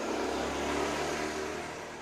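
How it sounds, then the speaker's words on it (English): A gasoline-powered scooter's engine hums steadily at moderate distance on a cold, rainy night, with a mid-pitched buzz that fades slightly as it passes. "Gasoline-powered scooter."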